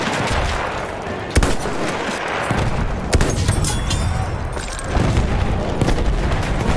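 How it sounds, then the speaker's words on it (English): Machine gun fire in the World War I shooter Battlefield 1, sharp bursts and scattered shots crackling over a continuous battlefield roar, some near and some distant. "There's a machine gun."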